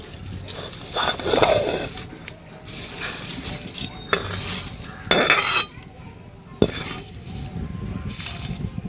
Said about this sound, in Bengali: এবার একটা বাটিতে আমি ছেঁকে নেব